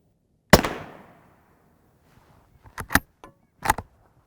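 Three sharp rifle shots at a Hesco L210 SRT armor plate, one loud crack with a ringing decay near the start, then two tighter pairs of impacts later, with quiet gaps between.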